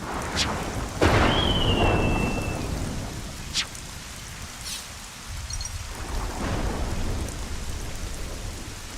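A thunderstorm with rain in the video game Xenoblade Chronicles 3: a sharp thunder crack and rumble over steady hissing rainfall, with a few more distant booms as the downpour continues.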